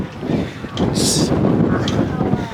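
Strong wind buffets the microphone with a loud, rumbling roar and a brief hiss along the way.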